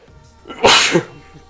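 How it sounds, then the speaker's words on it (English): A single loud, sharp sneeze with a quick inhaled buildup and a forceful burst, close to the listener, no talking. "sorry again, I had to sneeze"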